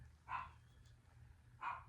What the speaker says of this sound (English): So I'm hearing Lily bark, so you all probably can too